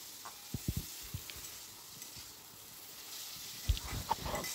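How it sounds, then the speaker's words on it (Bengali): Chicken seasoned with a little salt fries in a pan with a soft, steady sizzle, quiet and close, broken by a few sharp clicks of stirring. "একটুখানি লবণ দিয়ে আমি এখন ফ্রাই করছি"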